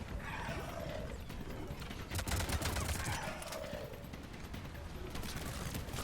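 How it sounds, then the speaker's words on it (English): Rapid bursts of gunfire fill a Mass Effect firefight, with dense crackling shots and some louder volleys over a steady layer of game sound. "Cortez knows how to use a gun."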